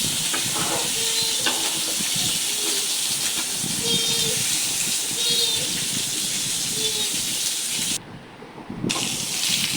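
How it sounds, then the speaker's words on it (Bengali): Rohu fish fries in a pan with a steady hiss and sizzle, close and fairly loud, with a brief drop near the end. "এই যে মাছগুলো ভাজা শেষ"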